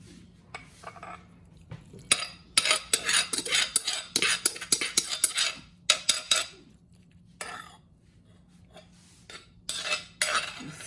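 A spoon scrapes papaya salad (Tum Mak Hoong) out into a white bowl, in bursts of scratchy clinking strokes with brief pauses between, close and moderately quiet.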